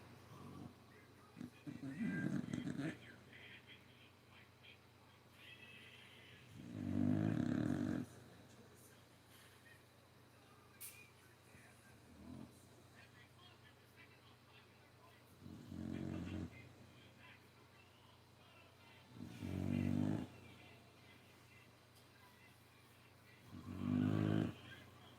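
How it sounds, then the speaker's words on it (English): An old female dog snores in loud, slow rasping breaths at intervals of a few seconds, close by, with quieter stretches between them. "I tried touching on her to see if that would just like stop her from snoring. She's still snoring."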